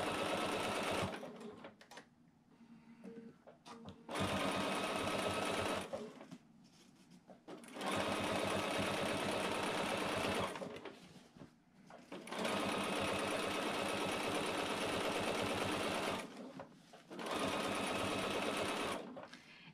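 Sewing machine stitching binding onto a quilt, running in four long steady bursts separated by short pauses, close and clear with no talk.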